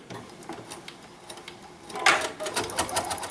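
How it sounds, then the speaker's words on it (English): An embroidery sewing machine stitches a placement line on a flower mug rug, running a rapid rhythmic needle chatter that grows louder and busier near the end, with no talking. "Now I'm going to just start my machine, and the first thing that's going to happen is it's going to stitch a rectangle out"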